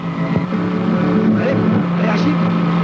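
A car speeding along with failed brakes, its engine roaring loud and steady beneath frantic shouting voices in a Pakistani film scene.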